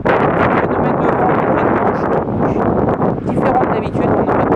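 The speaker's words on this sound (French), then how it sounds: "c'est pas banal qu'on ait des vents comme ça qui soufflent" Strong storm wind blowing hard along the sea front at Saint-Malo during a big tide and storm Xaver, a loud continuous buffeting roar with gusting surges that persists throughout.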